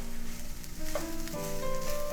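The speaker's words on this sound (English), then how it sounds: "now it's time to add the rice back to the pan again. And finally, stir fry for another 2 to 4 minutes." Chinese egg fried rice being stir fried in a pan, a steady close sizzle with scraping and stirring of the rice running throughout.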